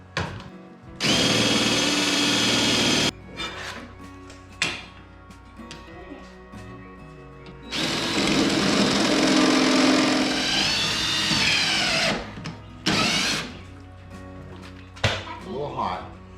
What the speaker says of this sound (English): I'm going to drill out these 2 bottom holes